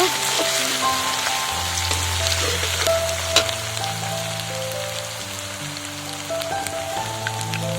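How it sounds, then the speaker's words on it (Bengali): Onion and garlic paste frying in a pan for an egg and potato curry, a steady close sizzle and crackle running throughout with occasional scrapes, no talking. "পেঁয়াজ রসুনটাকে একটু লালচে করে ভেজে নেব"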